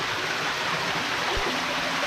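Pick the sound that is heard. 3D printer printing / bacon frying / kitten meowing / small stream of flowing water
small stream of flowing water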